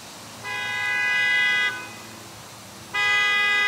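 A 2022 Honda Civic's aftermarket horn, triggered by the key fob alarm from a distance, blares in two long, steady honks, the first about a second long, the second starting after a pause, with wind noise in the background.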